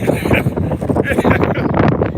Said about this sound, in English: you guys gotta hear the wind just flying by us